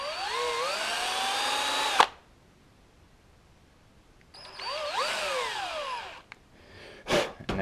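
A small power drill with a 1/16-inch bit, drilling a carburetor needle jet on a KLR650 motorcycle, whines at high speed, stops abruptly, then spins up again with rising and falling pitch, close and loud.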